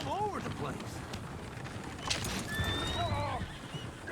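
Horses neighing and galloping in Red Dead Redemption 2, several whinnies rising and falling over busy hoof clatter, with a voice talking over the commotion.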